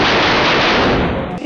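Gunfire in attack footage from Jabalia, Gaza: a loud, dense burst of rapid shots and crackling blasts packed tightly together, dropping off abruptly after about a second and a half.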